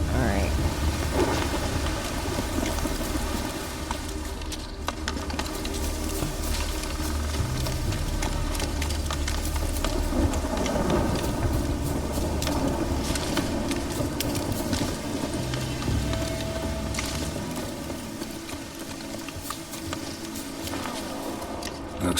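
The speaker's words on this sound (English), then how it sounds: "Looks like rain." Steady rain hisses on surfaces in The Witcher 3 with low rumbling thunder rolling underneath, a continuous stormy wash with occasional louder rumbles.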